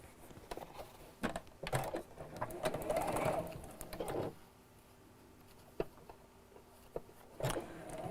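Sewing machine stitching two woven quilt block pieces together, quick mechanical whirring bursts with pauses between them, fairly faint and close, with light handling clicks and knocks around the stitching.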